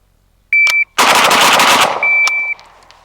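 A WASR 10/63 rifle fitted with a tuned muzzle brake fires a rapid, loud burst of shots close by, with a timer beep before and after the shots.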